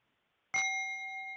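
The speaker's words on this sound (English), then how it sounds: "I got this singing bowl." A Tibetan singing bowl struck once after a moment of silence, giving a bright metallic ding that rings on with clear sustained tones, close and clean with no talk.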